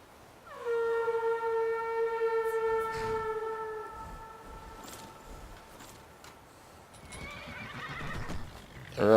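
A horse in the video game Skyrim gives a long, loud whinny with strong harmonics, followed by the clatter of hooves and a rumbling bed of ambient game sound, ending in a sharp burst.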